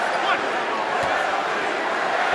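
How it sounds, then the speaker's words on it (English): A basketball arena crowd during a Knicks-Nets game cheers in a steady, dense roar that fills the space, with a commentator's voice faintly underneath. "Jeremy, that's what the fans are cheering here, Clyde."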